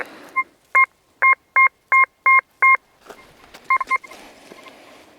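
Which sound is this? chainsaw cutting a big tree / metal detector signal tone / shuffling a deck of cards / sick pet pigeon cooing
metal detector signal tone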